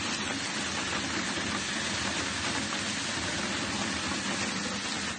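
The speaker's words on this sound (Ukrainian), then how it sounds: "Другу добу мешканців Самбора засипає градом." Hail with ice pieces about 2 cm across falling steadily in Sambir during a storm, a dense, unbroken clatter that sounds close and loud from start to finish with no voices.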